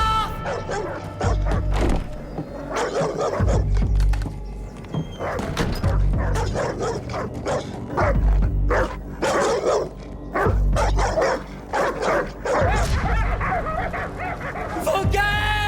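Dogs bark repeatedly and excitedly, mixing yips and whimpers, while voices shout over the noise.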